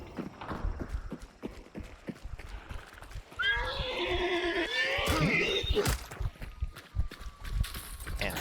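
Horse neighing in the Hunt: Showdown video game, a loud rising-and-falling whinny lasting a few seconds, with clip-clopping hooves and game sounds around it.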